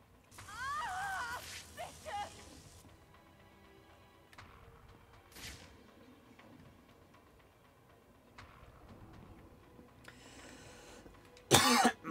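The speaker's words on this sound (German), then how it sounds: "Wieso muss ich denn schon wieder husten?" A person coughs and clears their throat near the start while playing Batman Return to Arkham City on PS5, followed by quiet game ambience with scattered clicks and a sharp loud burst near the end.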